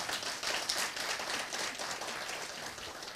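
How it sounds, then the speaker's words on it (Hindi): At a memorial meet, a large audience gives sustained applause, a dense, steady rush of many hands clapping at moderate volume with no break. "बहुत ज़ोरदार तालियां बजाई शिखा की।"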